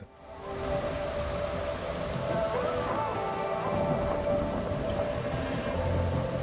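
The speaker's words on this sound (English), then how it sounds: "Why is it raining inside?" Steady rain falls in a video game environment, a dense even hiss with a distant rumble, no voices present.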